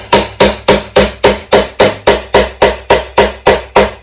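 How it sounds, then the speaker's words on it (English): Steady hammer blows drive a nail into a wooden birdhouse, about a dozen sharp, evenly spaced strikes ringing out close and loud with no talk. "So I'm gonna finish nailing in that front nail."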